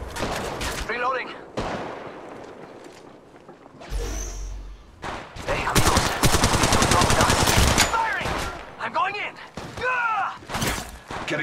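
Bursts of rapid automatic gunfire in the Apex Legends Mobile shooter, loud and close, with sustained fusillades and sharp shots between quieter gaps, alongside other game effects.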